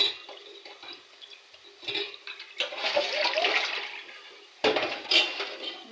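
Tap water runs and splashes as sardines are rinsed a second time in a kitchen, with clinks of a dish and uneven gushes that swell and drop, close and moderately loud with no voices.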